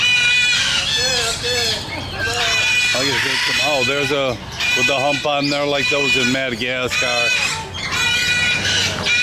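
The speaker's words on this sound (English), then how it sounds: "you're hearing the parrots over here. Lots and lots of parrots." Loud, harsh squawks and calls from many parrots, overlapping and continuous, with someone talking over them nearby.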